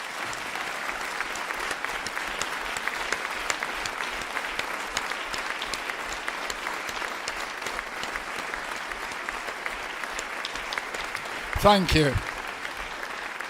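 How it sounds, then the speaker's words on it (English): At a brass band festival, a hall audience applauds in memory of a couple, sustained even clapping throughout, with a brief spoken thanks near the end. "just a bit of applause in memory of Ken and Frida Walker"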